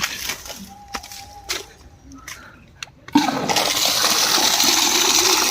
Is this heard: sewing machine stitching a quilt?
no